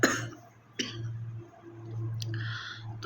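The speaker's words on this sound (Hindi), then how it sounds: "खांसी भी बहुत ज़्यादा होती जा रही है" A woman with a worsening cough coughs sharply close to the microphone, then gives a second short cough a moment later, followed by soft breathing and faint background noise.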